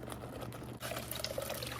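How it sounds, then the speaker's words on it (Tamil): Water poured into a pot while making radish rasam, a steady close splashing and trickling of liquid filling the vessel, continuous for about two seconds with a brief dip before resuming. "தேவையான அளவு தண்ணி விட்டுட்டேன்"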